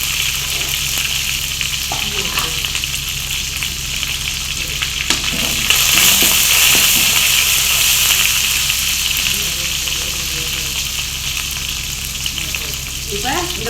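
Mint and coriander leaves sauté in hot oil for chicken curry, a steady loud sizzle and frying hiss with occasional stirring scrapes, close up and continuous without speech.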